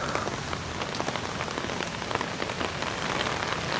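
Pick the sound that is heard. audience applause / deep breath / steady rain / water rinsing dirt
steady rain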